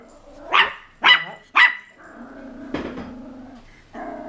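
A dog gives three sharp, loud barks in quick succession, followed by lower growling and a softer bark-like grumble, close by with no talking.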